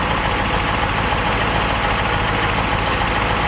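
The engine of a 1957 vehicle idles while warming up, a steady, loud, close rumble that holds without change from start to finish.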